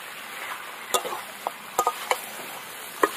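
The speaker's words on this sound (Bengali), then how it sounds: "এবার আলু দিয়ে এবার মাংসের সাথে কষাতে হবে" Pre-fried potatoes and chicken are stirred together in a pan for chicken curry, a low frying sizzle punctuated by sharp, irregular clacks of a spatula against the metal, no speech.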